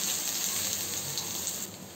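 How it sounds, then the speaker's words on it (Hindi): Soybean chunks frying in hot oil in a kadhai for soya pulao, giving a steady, close sizzle with a dense crackling hiss that runs unbroken, with no voices. "तो हमारा तेल अच्छे से गर्म हो जाए तो सबसे पहले हम सोयाबीन को फ्राई कर लेंगे"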